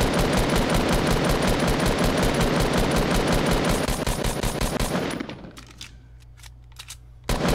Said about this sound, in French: Ah, il faut canarder, on est blindé de balles.